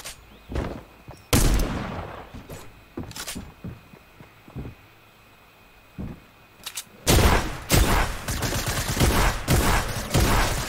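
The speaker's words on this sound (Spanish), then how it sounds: "O sea que le estoy disparando" Gunfire from shooting in Fortnite comes in several loud, sharp bursts separated by gaps, then builds into denser, sustained rapid firing near the end with no talk.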